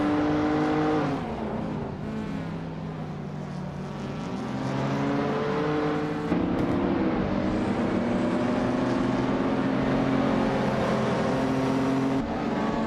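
A pack of cars, including a vintage 1985 Toyota Celica Supra, leaves the start of a video game race. Many engines drone and rev loudly together, with shifting gear whines and a sharp surge midway, and no voices.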